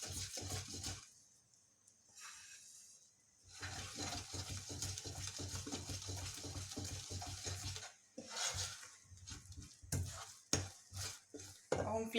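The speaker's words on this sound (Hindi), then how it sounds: "देखिए लगातार चलाते रहिए।" A spoon stirs a gram flour mixture in a pan for vegan modak, scraping and clinking in quiet bursts. The sound breaks off briefly near the start, then returns as faint, irregular taps and scrapes, with no voices.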